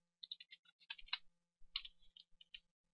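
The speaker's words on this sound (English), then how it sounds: "we'll type in stop commands" Keys typed on a computer keyboard in a quiet room, a quick run of light clicks, a short pause, then a second burst of taps, close and fairly soft.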